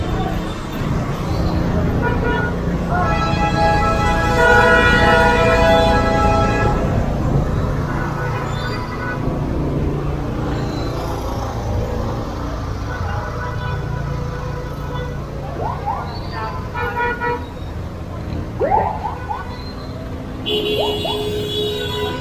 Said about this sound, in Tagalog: Traffic eh.